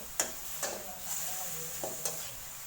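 Garlic frying in a small amount of oil in a pan, a soft steady sizzle broken by a few sharp spatula scrapes and clinks against the pan, close by.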